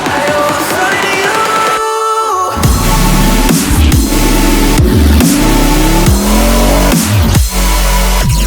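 Drift cars at Western Speedway on Vancouver Island, during the Pumpkin Smash drifting event, rev hard with rising and falling engine pitch and repeated tire screeching, loud and close throughout.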